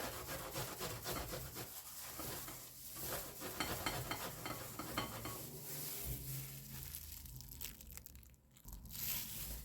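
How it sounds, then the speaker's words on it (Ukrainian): Garlic grated on a fine hand grater for a layered salad, a steady faint scraping rasp of continuous rubbing strokes, close but quiet. "на такі дрібненькі терці. натираю чесник."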